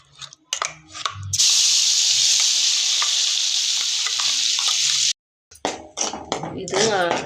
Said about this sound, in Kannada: ಮಸಾಲೆ ಎಣ್ಣೆಯಲ್ಲಿ ಕುದೀತಾ ಇದೆ